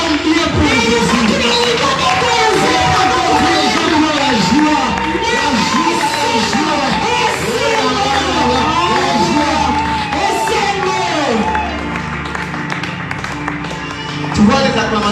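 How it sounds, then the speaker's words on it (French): A church congregation cheers and acclaims loudly and continuously during a worship service, a dense mass of shouting voices filling the space, with a brief louder burst near the end. "Tu vois les acclamations que tu fais là?"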